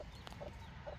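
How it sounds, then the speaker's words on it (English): Soft, short clucks from a hen with faint peeps of chicks, quiet and close, against low background rumble. "There's Mama and a couple of the little baby chickens right there."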